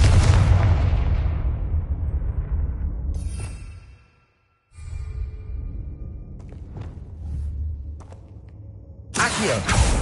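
Confringo blasting spell from the Hogwarts Legacy video game, a booming explosion with a long rumbling decay, then quieter magical effects and another burst at the end.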